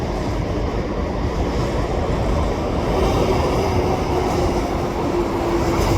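An SRY freight train rolls past near heavy-duty cranes, a steady broadband rumble and rush of wheels on rail holding for the whole span, with a faint thin tone emerging partway through.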